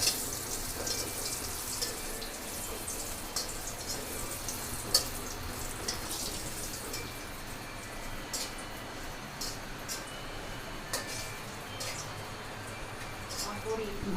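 Dal bori (lentil dumplings) fry lightly in hot oil, giving a steady, soft, hissing sizzle with scattered small crackles.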